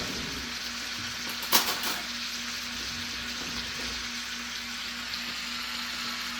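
Cabbage, onion, bacon and garlic frying in a pan give a steady, bright sizzle that carries on throughout, with one sharp clink of a utensil near the start and a faint low hum beneath.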